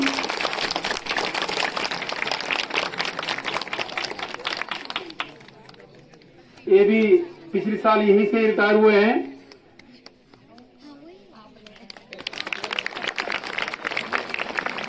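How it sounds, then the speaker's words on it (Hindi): Loud applause and clapping from an assembled crowd at a school retirement function for a Hindi lecturer, filling the opening seconds and returning near the end, with a voice speaking in between. "जोरदार तालियां इनके लिए भी।"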